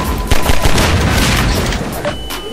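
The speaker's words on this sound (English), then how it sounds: "Ow, a barrel blew up on me." Exploding barrel in the video game Half-Life 2 Synergy, a loud booming burst amid dense, continuous gunfire and crashing noise, close and very loud throughout.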